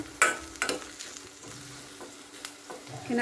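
Mushrooms fry in a pan for a gravy, giving a low, steady sizzle close by. Sharp clinks of stirring break in now and then, with no voices.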